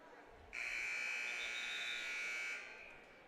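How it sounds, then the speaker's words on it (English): A wrestling tournament buzzer marks the end of a period, one steady electric blare lasting about two seconds that rises over a quiet arena murmur and then cuts off. "Now buzzer sound signaling the end of the period."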